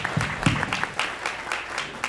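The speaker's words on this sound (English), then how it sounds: "can we get a hand clap on that first and" Sparse rhythmic hand clapping from a small audience at a film debut show, a handful of distinct claps roughly every quarter second, fairly close, with a faint voice early on.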